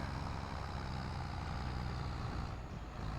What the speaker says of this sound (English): Trailer's really heavy for this little tractor. It's really struggling here with this full load.